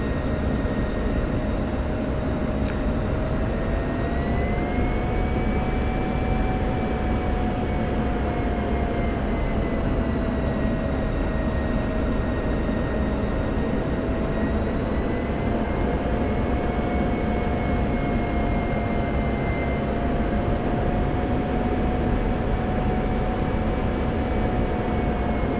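Simulated aircraft engine drone from a flight game, heard steady and loud on a 5-mile straight-in final approach to runway 23 at night, a continuous hum with gently wavering tones and no talk.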